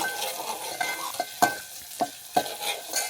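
Onion, tomato and curry leaves fry in hot oil in a home Konkan kitchen, a steady sizzle under a few soft stirring scrapes and clinks at irregular intervals, close and moderately quiet with no talking.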